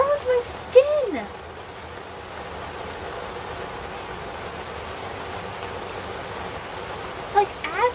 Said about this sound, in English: What is wrong with this rain?